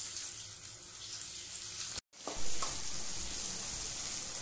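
Garlic, ginger and onion sizzle steadily in a pan over a medium flame while being stirred, with a brief break midway before the frying resumes, close and continuous with no talking.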